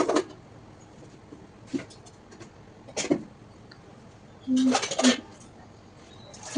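Pots and dishes being washed, with scattered metallic clinks and scrapes in separate bursts, one longer clatter near the end, under a quiet background.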